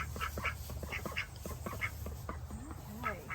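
Several newly acquired farm ducks quack in short repeated bursts at close range, with people talking over them and a steady low hum underneath.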